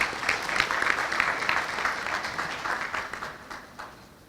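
Sustained applause from an audience at a law fair in Port-au-Prince, steady and fairly loud, tapering slightly toward the end with no voices over it.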